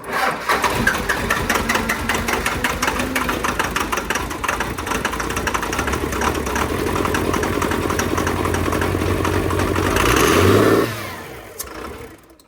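A 24-valve Cummins diesel engine converted to a P-Pump cranks, catches and runs with a steady, loud clatter for about ten seconds, then winds down and stops.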